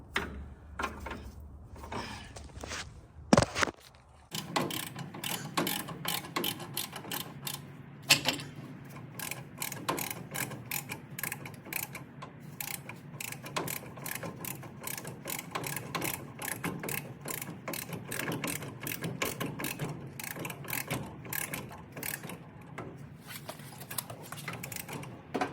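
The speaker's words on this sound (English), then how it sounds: "let me put a jack up on the rotor" Rapid ratcheting clicks from a jack being pumped up under the front rotor of a 1964 Chevrolet Impala, a steady run of close, metallic pawl clicks lasting most of the clip.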